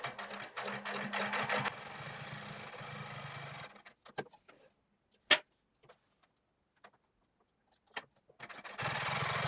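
A sewing machine topstitches a selvage denim jeans back pocket in close, loud bursts at the start and end, with a quiet stretch of sparse clicks and taps between.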